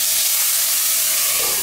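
Loud, steady hiss of steam rising as water is added to a hot pan of Chinese potsticker dumplings, continuous and close with no pauses.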